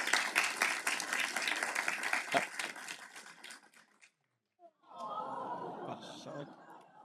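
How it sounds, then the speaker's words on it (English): Audience at a State of the City address applauds to honor a new mother, a few seconds of dense clapping that fades to a brief silence before murmuring crowd chatter resumes. "Please give her a round of applause"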